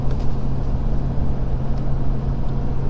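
A Ford Powerstroke diesel truck towing 14,500 lbs uphill in 5th gear, its engine a steady low drone with road rumble, continuous and close, no voices.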